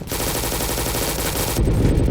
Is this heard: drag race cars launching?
no